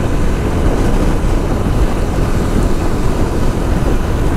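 Loud, constant wind rush buffeting the microphone while riding a Bajaj Dominar motorcycle, a dense low roar with no pauses, like riding at speed.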